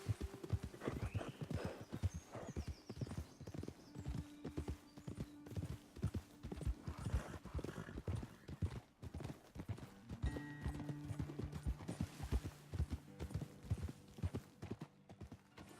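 Steady clip-clop of horse hooves on hard ground in the video game Red Dead Redemption 2, continuous and fairly close, with an occasional horse snort or whinny mixed in.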